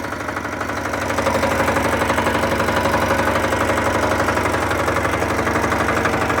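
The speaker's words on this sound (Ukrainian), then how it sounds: "от двигун як шипоче, тихенько-тихенько" A walk-behind tractor engine idles steadily up close, a rapid, even chugging rhythm that swells slightly after the first second and holds constant.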